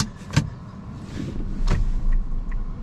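A 2015 Toyota Auris Hybrid Touring Sports with CVT pulls away on electric power alone, giving a low, steady rolling rumble with a faint motor whine and a couple of brief clunks, no engine note heard.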